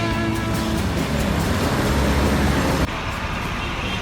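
Dense street traffic on a busy Hong Kong road, a steady loud roar of passing cars and buses that drops slightly near the end, with no talk.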